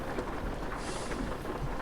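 Rain falls steadily in Euro Truck Simulator 2, a soft continuous hiss of drops with faint low rumbling underneath, heard briefly and alone.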